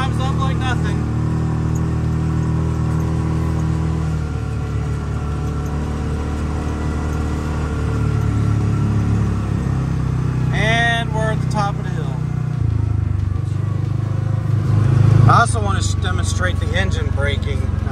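A 2022 Kawasaki Mule Pro-MX 700 EPS UTV climbing a big hill, its engine droning steadily and growing somewhat louder, with a person talking over it and brief rattles and squeaks near the end.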